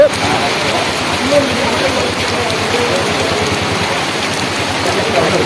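Heavy rain pours down in a steady, dense hiss that fills the whole clip, loud and close.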